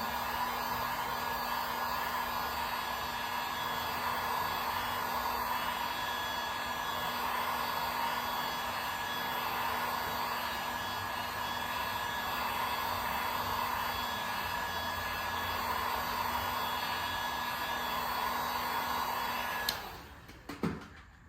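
Heat gun blowing to warm aged, brittle OEM decals on a Yamaha FZ6R motorcycle, a steady close whooshing hum with a constant tone that cuts off near the end.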